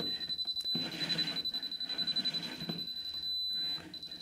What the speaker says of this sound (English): So we've got the flashing warning sound there, which is warning us about the cables from this light switch.